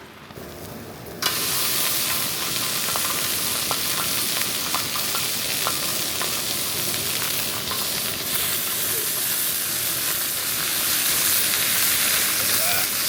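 Steaks frying in butter with rosemary at a camp cookout in bad weather, a loud steady sizzle starting abruptly and continuing close with small crackles and pops.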